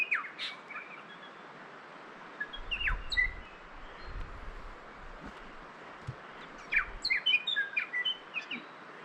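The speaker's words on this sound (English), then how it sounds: "there's two bellbirds sitting on the trees there" New Zealand bellbirds and robins singing from trees in native bush, scattered bright chirps and short song phrases at moderate distance over a soft, steady background hush, no talking.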